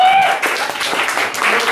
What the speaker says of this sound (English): I think you gotta applaud for him